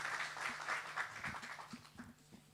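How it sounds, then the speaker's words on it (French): Audience applause at an agro-industry investment conference, a short burst of clapping that fades over a couple of seconds. "Sous vos applaudissements, mesdames et messieurs."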